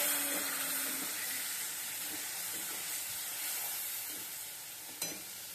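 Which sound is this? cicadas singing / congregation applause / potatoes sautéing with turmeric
potatoes sautéing with turmeric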